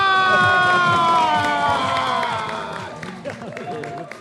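A studio audience greets a guest on a T20 World Cup cricket talk show with loud cheering, high shouts and whoops over clapping, settling toward the end as voices continue.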